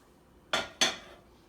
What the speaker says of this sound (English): we're gonna shake out the excess into the sink